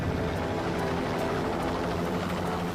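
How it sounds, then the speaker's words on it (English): Continuous heavy rotor thrum of a helicopter, loud and steady throughout with no voices. "Helicopter."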